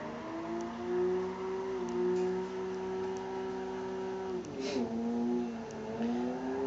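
A car engine in a driving video game revs and holds steady pitch while drifting, dipping briefly mid-way before climbing again, a moderately quiet, continuous synthetic engine drone.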